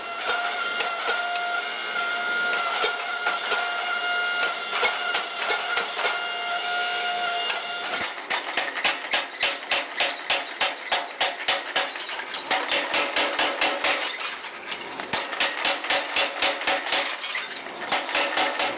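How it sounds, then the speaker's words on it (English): Steel blade being forged by hammer, a fantasy-inspired razor, with a loud steady mechanical drone for the first stretch, then rapid rhythmic metallic strikes in quick bursts, close and ringing. "So we're going to get started forging this baby."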